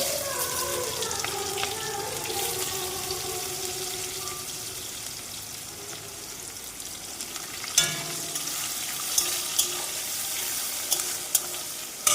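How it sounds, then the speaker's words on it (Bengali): Fish frying in hot oil in a home kitchen, giving a steady broadband sizzle throughout with a few sharper spatters and clinks near the end; faint tonal background sounds sit underneath. "আমি মাছের তেলটা কীভাবে করি তোমরা দেখো"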